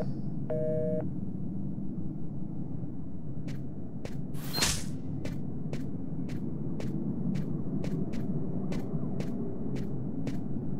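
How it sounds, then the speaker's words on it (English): A steady, low telephone dial tone hums continuously from an off-hook phone in the game Fahrenheit: Indigo Prophecy, with a few brief beeps at the start, a swoosh midway and regular faint ticks throughout. "We can still hear the dial tone."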